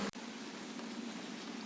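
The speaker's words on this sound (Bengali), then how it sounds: "এত জোরে বৃষ্টি পড়ছে।" Heavy rain pours down in a steady, dense hiss after a brief thump at the start, continuous and moderately quiet.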